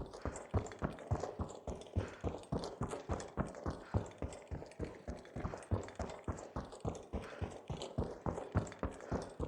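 Rapid, heavy, thudding footsteps of a heavy-class character in THE FINALS, a steady running rhythm of loud close impacts with metallic clatter.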